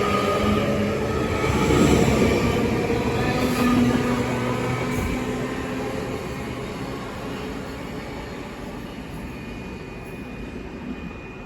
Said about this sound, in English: Now arriving is the 12:29 Great Western Railway service from Redhill to Reading, being worked by a class 165.